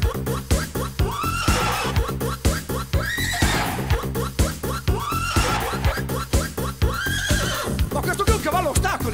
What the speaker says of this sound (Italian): Tocca adesso il cavallo.